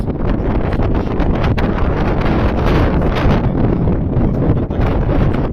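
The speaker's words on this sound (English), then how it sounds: "It's really windy today. It's so windy." Strong wind roars steadily across the microphone in Ushuaia, a loud continuous buffeting rush with no pauses, filling the whole stretch.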